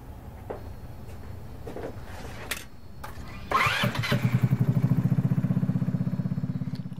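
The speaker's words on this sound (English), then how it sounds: "Now that our engine is running" A small go-kart engine cranks after some clicks and fumbling, catches, and settles into a loud, rhythmic putter close by.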